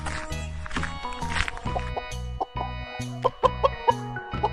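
A chicken gives a run of short, clipped clucks near the end, heard faintly over steady backing music.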